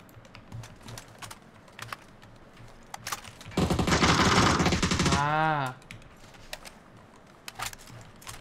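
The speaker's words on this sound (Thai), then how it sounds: "มันยิงเขาหนักปะ" A sustained burst of rapid automatic gunfire in PUBG lasts about a second and a half and ends with a ringing, wavering tail, surrounded by sparse keyboard clicks and a voice.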